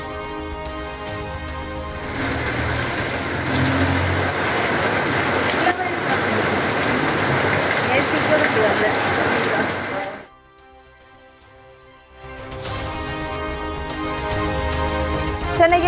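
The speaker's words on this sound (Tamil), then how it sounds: "ஈரோடு மாவட்டம் அந்தியூர் சுற்றுவட்டார பகுதிகளில் கனமழை." Heavy rain falls in the Anthiyur area of Erode district, a dense, steady roar of downpour that cuts out briefly to near silence and then returns just as strong.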